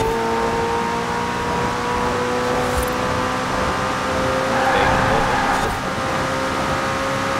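McLaren Senna race car in the Forza driving game, its engine holding a steady high drone at full throttle for the whole stretch, loud and continuous with faint tyre and wind noise but no talk.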